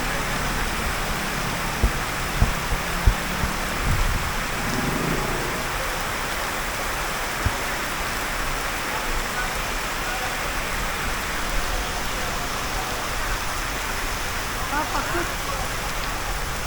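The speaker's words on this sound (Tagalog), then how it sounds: "Ngayon talagang buhos na." Heavy rain pours down steadily near a market by a fishing lagoon, a loud, dense, even hiss of falling water with scattered sharper drops and knocks, continuous throughout.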